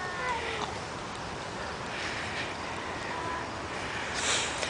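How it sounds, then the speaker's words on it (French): A cat meows close by outdoors, a few soft, drawn-out cries spread over a steady background hiss, the last one louder. "un chat qui est pas à moi, qui me fait des câlins"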